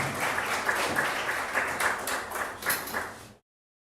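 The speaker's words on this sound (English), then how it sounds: "Please, a round of applause." An audience at a live event gives a round of applause, a dense moderate clatter of many hands that holds steady and then cuts off abruptly.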